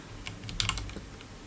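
Quick bursts of keystrokes on a computer keyboard, a short irregular run of crisp clicks heard up close with no voices.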